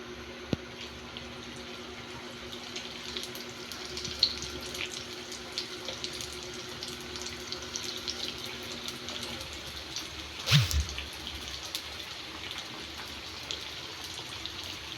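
Turon sizzling in hot oil in a frying pan, a steady close crackling hiss that runs the whole time with a few brief louder pops and no talk.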